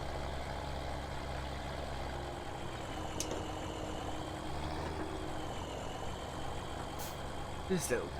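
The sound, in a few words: tractor engine idling in a farming simulator game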